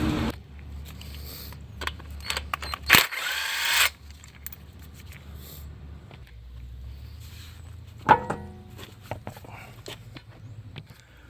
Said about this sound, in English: We'll go ahead and break these lugs loose here.